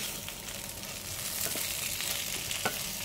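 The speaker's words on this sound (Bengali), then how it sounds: "মশলাটাকে আমি মিশিয়ে নিচ্ছি সবজিগুলোর সাথে" Vegetables and ground coriander and cumin frying in a pan, a continuous dense sizzle with soft stirring scrapes throughout, steady and close, with no talking.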